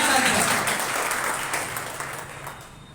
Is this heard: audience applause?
yes